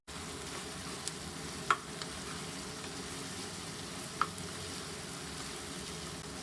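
Village-style spicy chicken curry fries gently while chili powder and other ground spices are stirred in, a soft continuous sizzle broken by a couple of brief utensil clicks, quiet and without voices.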